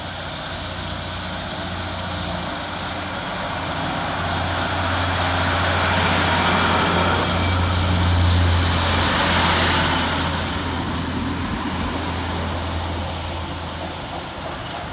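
Northern class 156 diesel unit 156471 pulls away from Thornaby railway station on a Bishop Auckland to Saltburn service, a steady loud engine drone with a low throb that swells to a peak midway and then eases slightly, with no talking.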